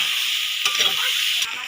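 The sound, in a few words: soya chunks and potatoes frying together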